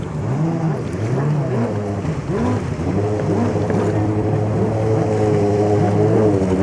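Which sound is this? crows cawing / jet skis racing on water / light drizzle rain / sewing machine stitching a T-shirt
jet skis racing on water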